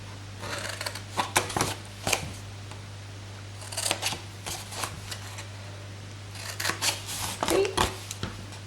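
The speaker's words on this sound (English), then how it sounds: "with our scissors, we are going to cut up each of these" Scissors snipping paper along score lines for a Christmas tag gift box, with quiet, irregular clusters of crisp cuts separated by pauses over a faint steady hum.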